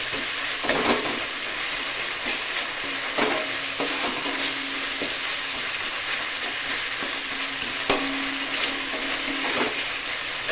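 Ginger garlic paste, onion and tomato stirred and frying in a pan on a gas stove, with a steady sizzle and a few scraping strokes of the spoon, close and alone with no talk.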